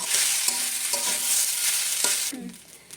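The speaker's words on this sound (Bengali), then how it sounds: "এটা আস্তে আস্তে ফ্রাই হয়ে যাবে।" Sago pearls fry in a pan as a bright, continuous sizzle with scraping stirring strokes, loud and close, stopping abruptly near the end.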